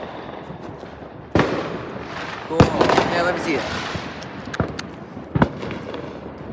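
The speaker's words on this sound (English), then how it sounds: "This is the fireworks. They are so really cool." Fireworks burst in a few sharp, loud bangs spread across the moment, some with crackling tails, while people talk casually nearby.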